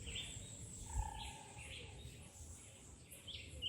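Birds at the Rockland bird sanctuary in Jamaica, where hummingbirds and ground doves are fed, giving faint scattered chirps and short calls over quiet outdoor background hiss.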